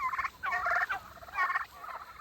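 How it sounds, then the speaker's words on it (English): Male turkeys on a farm in October gobble in two quick rattling bursts, close and clear with little else around. "the males are starting to show their true colors, fluffing out as they do and posturing"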